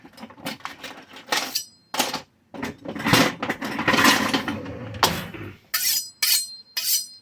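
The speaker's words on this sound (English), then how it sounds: "Let me get my knife here" A knife is picked up and handled beside a freshly cleaned deer heart, with close metallic clinks and clatters of cutlery in irregular bursts and short gaps between them.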